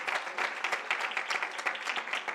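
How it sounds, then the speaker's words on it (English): An audience applauds the program director at a conference event, a dense, steady wash of clapping from many hands that holds throughout without anyone speaking. "Can you give the program director a big round of applause?"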